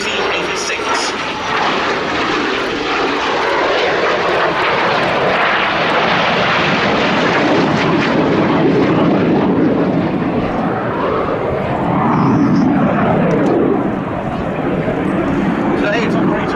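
A 1986-built BAC Strikemaster jet, formerly of the Royal Air Force of Oman, flies at the Duxford Air Festival, its loud engine roar sustained and swelling throughout while an announcer speaks over it.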